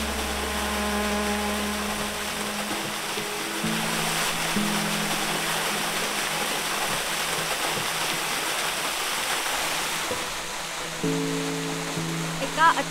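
A moderate waterfall at Rangna fort spills from a rock crevice onto someone standing beneath it. Its rushing, hissing roar is close and continuous throughout, and a low hum runs under it.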